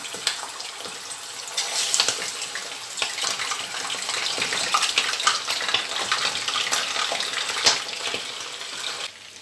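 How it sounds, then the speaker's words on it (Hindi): Meat pieces frying in hot oil for a chicken and potato curry, a steady bright hiss and sizzle with small crackles and spits running throughout, close and fairly loud, no talk. "तो यहाँ मैंने तेल रखा है, पहले मैं गोश्त को फ्राई करूँगी।"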